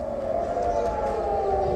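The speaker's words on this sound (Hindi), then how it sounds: "तीन शहरों में जंग का सायरन बजने लग गया।" A war air-raid siren wails across Israeli cities during a rocket attack, a steady loud tone sustained through the short stretch over a dense background.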